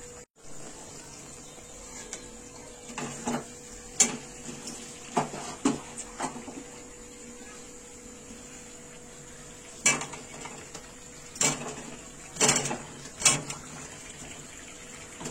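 Spice powders and dry chilli powder sautéed in oil in a pot for aloo dum at an outdoor picnic, a soft sizzle punctuated by scattered metallic clinks and scrapes of a spoon against the pot, fairly close.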